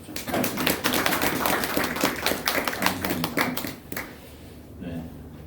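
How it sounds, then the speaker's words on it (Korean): Congregation in a church clapping during a morning service, a burst of close, dense applause lasting several seconds and then fading out, with a voice speaking over it. "김경숙 권사님 박수 한번 해주십시오"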